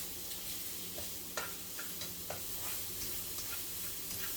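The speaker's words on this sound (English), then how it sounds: "I love the smell of onion and garlic frying off together." Chopped onion and garlic sauté gently in a pan for a low-carb bolognese sauce, a soft continuous sizzle with occasional stirring scrapes and clicks, fairly quiet and steady.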